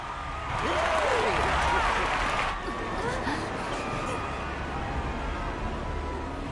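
Crowd cheering and applause in Final Fantasy XIV, a broad, steady wash of many voices and clapping that swells early, then settles to a sustained murmur, with a speaking voice over it.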